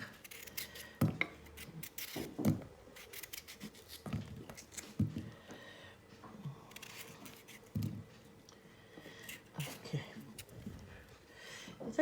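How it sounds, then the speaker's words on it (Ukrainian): A knife cuts through cooked chicken fillet on a board in a home kitchen, giving faint, irregular slicing strokes and soft thuds with quiet pauses between them. "Розрізаю її ось так і починаю різати."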